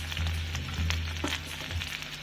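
Potatoes for green aloo being stir-fried in a pan with salt, giving a steady soft sizzle under low, intermittent scraping and stirring noises close by.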